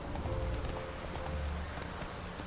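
Horse hooves clip-clop at a steady trot in The Witcher 3, a muted rhythmic patter under low background game ambience.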